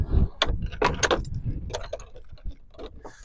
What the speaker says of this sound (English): just gonna get the keys and unlock